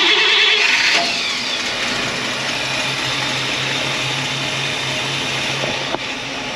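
Buick Electra 225 engine, recently repaired after a fire, starts with a brief loud burst and then settles into a steady, fairly quiet idle heard up close, with a faint knock near the end.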